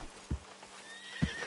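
A horse whinnies and snorts in Red Dead Redemption 2, with a rising neigh near the end and a couple of heavy hoof thuds, close and fairly quiet.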